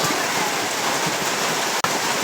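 Heavy rain pours in cold weather, a loud, dense, continuous hiss that stays even throughout apart from one brief dropout near the end.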